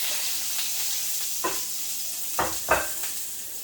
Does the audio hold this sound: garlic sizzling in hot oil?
yes